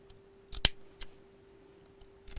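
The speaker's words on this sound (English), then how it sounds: "you're not actually cutting the furry bit, you're just cutting the knitted back" Sharp scissors snipping through the knitted backing of faux fur fabric while sewing a furry bag: a few crisp, close cuts, one especially strong, spaced irregularly with quiet pauses between.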